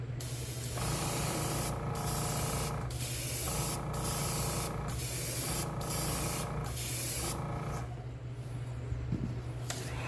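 Airbrush spraying paint onto an old fishing lure being repainted, steady hissing bursts in a regular on-off rhythm, close and continuous, with no talking.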